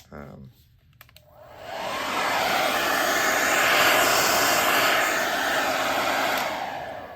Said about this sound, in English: sorry, blow drying time while I was in the middle of talking